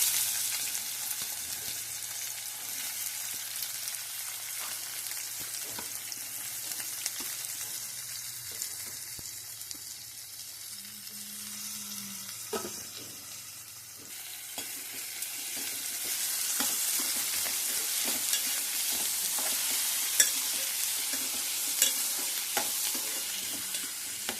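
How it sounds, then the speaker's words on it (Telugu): Sliced onions frying in hot oil for a prawn masala curry, a steady close sizzle that runs throughout with occasional stirring scrapes and brief bursts of crackle, with no voices. "ఆయిల్ వేడైందండి. ఇందులో ఉల్లిపాయలు వేసుకుంటున్నాను."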